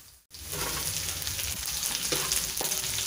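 Garlic and onions drop into hot oil for chicken caldereta and set off a loud, steady sizzle close by. The frying carries on without a break and brief stirring scrapes come through near the end.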